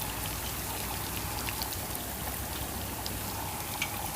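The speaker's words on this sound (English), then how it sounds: "It's raining outside." Steady outdoor rain patters continuously and evenly, a soft close hiss of drops with occasional sharper splashes and no voices.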